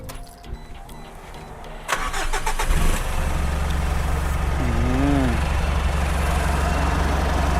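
An older Mitsubishi Triton pickup engine cranks and catches near the microphone, then settles into a steady, loud idle, with a person speaking briefly before it starts.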